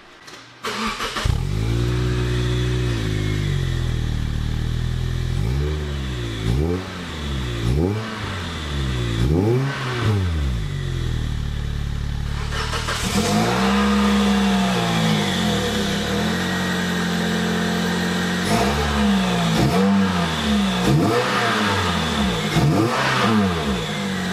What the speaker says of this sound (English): get the car on the ground, and I'll give you guys a startup